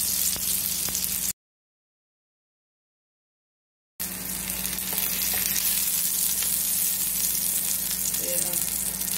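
Sausage browning in a hot pan gives a loud, steady, close sizzle that cuts out completely for a few seconds, then resumes just as strong.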